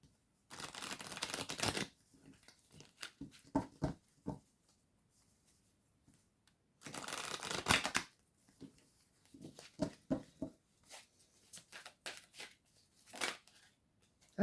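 Oracle cards are shuffled by hand in a few short bursts of dense riffling and flicking, close and fairly loud, separated by quieter stretches of soft taps and handling.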